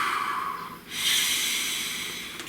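A single deep breath, a steady inhale followed by a longer, louder exhale, close and breathy with no talking.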